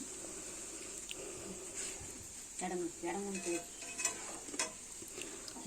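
Soft onion pakodi frying in hot oil give a steady bubbling sizzle under scattered scraping and stirring clinks of a utensil in the pan.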